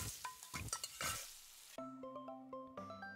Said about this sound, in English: Oh, the sizzling sound is good.